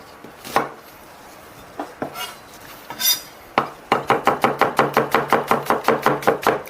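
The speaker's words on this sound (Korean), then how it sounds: "슬라이스로 썰 거예요." Knife slicing mushrooms on a cutting board for cream of mushroom soup: a few scattered cuts, then a steady run of about a dozen crisp, evenly spaced knocks on the board, close and clear with no talk.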